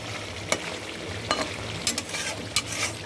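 Fish curry masala with green chili and a pinch of cumin powder frying in a pan, a steady close sizzle broken by several sharp scraping stirs of a spatula, with no talking.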